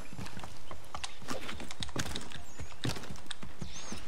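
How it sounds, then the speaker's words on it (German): Horse hooves in the video game Assassin's Creed 3, a busy run of close clip-clop beats at a quick, uneven rhythm with no voices. "So, wieder aufs Pferd drauf."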